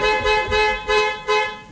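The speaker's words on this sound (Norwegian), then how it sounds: "Ja, tut vekk du, jeg flytter meg ikke her." A car horn from 1970s traffic honks four times in a steady rhythm, loud and close, with faint traffic rumble underneath and no voices.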